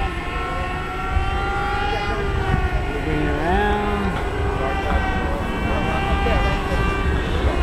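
A Hobbyking Yak 54 30e electric RC airplane makes a low flyby outdoors, its propeller whine rising and bending in pitch as it passes, with people talking over the steady engine drone.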